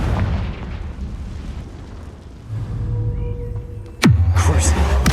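Confringo fire-blast spell exploding in Hogwarts Legacy: a loud sudden detonation with a sharp sweeping crack, then a sustained deep booming roar, following a stretch of lower rumbling combat noise.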